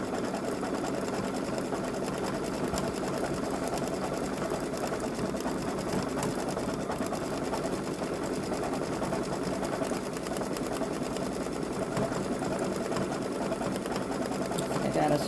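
A Babylock Solaris embroidery machine stitches a design with a steady, dense mechanical whir that carries on unbroken, close and moderately loud, while someone speaks over it.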